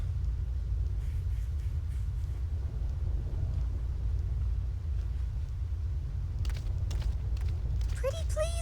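A storm on the Thunder Plains in Final Fantasy X makes a constant deep rumble, steady and heavy throughout, with faint crackles. A brief voice comes in near the end.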